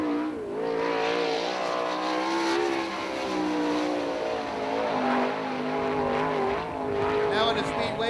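Sprint car engines roar on the dirt oval at Attica Raceway Park in Ohio during All Star Sprints racing, with a loud, steady, wavering drone rising and falling across the whole stretch and a voice talking over it.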